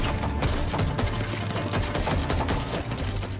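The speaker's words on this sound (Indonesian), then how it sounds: "Kemudian Max masuk dan terjadilah adu tembak." Film gunfight with rapid gunshots bursting continuously over a dense, loud action soundtrack, shots blending into a steady barrage throughout.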